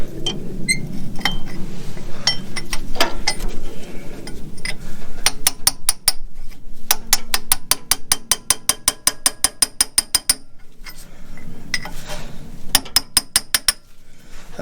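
A ratchet wrench working a tight bolt out of an old generator on a Ford F600 truck: long runs of rapid, evenly spaced metallic clicks, close and loud, broken by short pauses and steady background noise.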